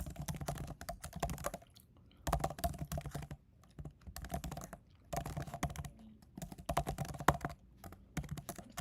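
Rapid clicking keystrokes on a small, tightly laid-out computer keyboard come in bursts of typing separated by short pauses, close and fairly quiet, with no talking.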